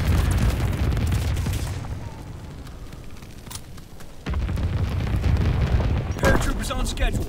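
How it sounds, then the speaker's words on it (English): In Call of Duty WWII, a low-altitude bomber drops incendiary bombs, producing loud rumbling booms and crackling fiery bursts that swell, ease off, then surge again near the end. "Dropping incendiary."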